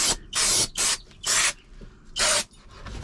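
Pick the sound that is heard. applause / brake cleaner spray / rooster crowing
brake cleaner spray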